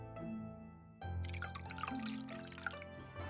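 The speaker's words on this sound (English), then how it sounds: "The sound of pouring the tea." Tea poured from a pot into a cup at a traditional Chinese tea gathering in Hangzhou, a soft trickling stream starting after a quiet moment, close and gentle over a faint background hum.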